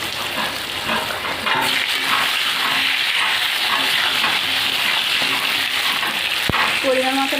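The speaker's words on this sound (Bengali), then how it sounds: "এবার আলুগুলো ভেজে নেব।" Potatoes fry in hot oil with a loud, continuous sizzle and crackle close by, with brief stirring scrapes near the end.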